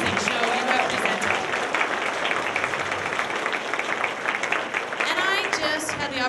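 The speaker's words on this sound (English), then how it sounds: "let's give a big round of applause for all of our performers tonight" Sustained applause from a talent show audience fills the whole stretch, a dense steady wash of clapping with some crowd noise, loud and close throughout.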